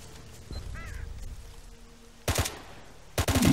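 Gunfire in a shootout in the STALKER Autumn Aurora mod: two short bursts of loud shots, one near the middle and one at the end, over a quiet ambient background.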